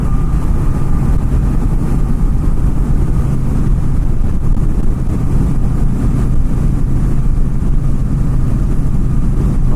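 A Triumph Bonneville T120 Gold Line motorcycle cruises in sixth gear at about 70 mph and 3,000 rpm, a loud steady engine drone mixed with heavy wind roar, unbroken throughout.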